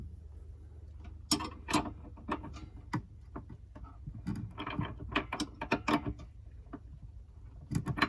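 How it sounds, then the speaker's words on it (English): A wrench ratchets in short bursts of clicks while battery terminals are fastened during installation of 12V 200Ah LiFePO4 batteries, close and moderately loud with uneven pauses between strokes. "A wrench."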